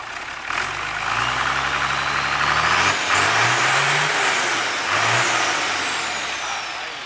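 An Isuzu 6HK1 280 hp diesel truck engine revving up repeatedly, three rising throttle blips that climb and fall back toward idle, loud and close, with no talking.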